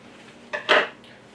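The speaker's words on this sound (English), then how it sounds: "we'll just take scissors and we'll give that a cut" Scissors snip through black bear pepperoni sausage casing, two quick close crisp cuts, the second louder, against a quiet room.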